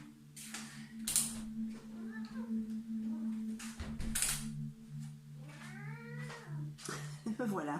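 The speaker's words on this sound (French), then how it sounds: "j'ai mon chat qui va rentrer, il n'arrête pas de gratter" A nearby cat scratches and meows several times in rising and falling cries, over a low steady hum, with a person speaking at moments in between.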